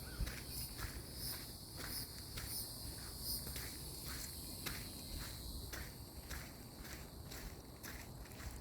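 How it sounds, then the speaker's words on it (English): Crickets chirp outdoors near water in a steady, rapid pulsing chorus, high and continuous, with soft rustling underneath and no talk. "Crickets or frogs, maybe everything."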